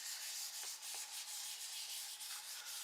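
Colored pencil ground in a handheld sharpener while working on a candy cart page in a coloring planner, a steady dry rasping scrape with a few brief pauses, close and fairly quiet, no voices.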